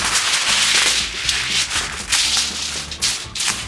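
Aluminum foil crumpled by hand into the core of a dinosaur cake, a steady close crinkling and rustling that runs throughout with a few sharper crackles, with no talking.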